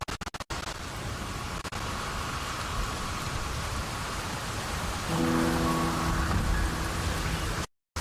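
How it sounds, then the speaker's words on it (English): Steady rain falls in a constant hiss in the video game Wuthering Waves, with a faint low hum joining partway through before it cuts out. "The rain is subsiding, and the sky will soon clear."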